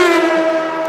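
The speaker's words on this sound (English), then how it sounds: "that's the sound of a Formula One racing machine screaming across a track at nearly 200 miles per hour" A Formula One racing car engine screams across a track at nearly 200 miles per hour, giving a loud, steady, high-pitched harmonic whine that holds without a break and carries no talk.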